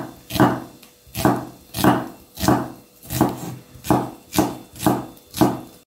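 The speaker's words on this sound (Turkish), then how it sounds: "Soğanımızı bu şekilde doğruyorum." Onion being sliced into thin, long strips with a knife on a cutting board, about eight steady, evenly spaced cuts, close and fairly loud, with no talking.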